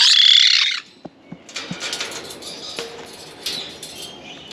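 White-bellied caiques kept by a breeder give a loud, harsh screech up close, then a run of softer chirps, wing flutters and small knocks from the aviary.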